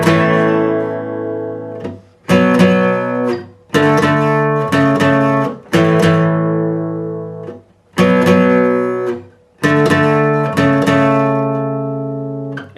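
Guitar playing a song's outro twice at full speed, six loud strummed chords in a steady rhythm, each ringing out briefly before the next, close and with no talk.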